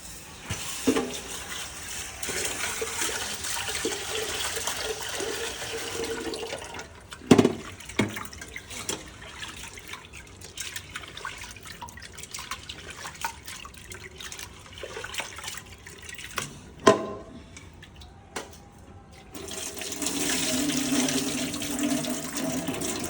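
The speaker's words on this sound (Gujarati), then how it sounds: "હવે હું આ દાળને ધોઈ દઉં." Dal lentils are washed under a running kitchen tap: water streams and splashes into a vessel with intermittent louder sloshes and knocks, stops briefly, then gushes again near the end.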